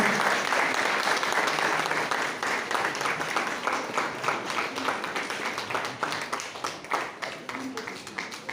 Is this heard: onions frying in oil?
no